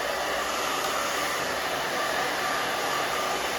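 A hair dryer blows on hair being partly dried while growing out a pixie cut, a close, loud, even whooshing hum that runs unbroken for several seconds with no speech.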